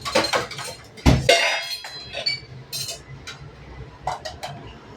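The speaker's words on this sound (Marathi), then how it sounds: "त्याच्यावर आता ही कढई ठेवणार आहे भाताची, बिर्याणीची" A metal kadhai of vegetable biryani set down onto a hot tawa, with sharp clanks and metallic clinks, one heavy thud, then scattered lighter taps close by.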